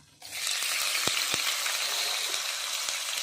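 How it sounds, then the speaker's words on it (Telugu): Sliced onions hit hot oil with cumin seeds, and a loud sizzle rises suddenly and then holds steady, broken by a couple of sharp clicks from a utensil against the pan. "అది కొంచెం వేగింది కదా ఉల్లిపాయలు వేసుకుంటున్నాను"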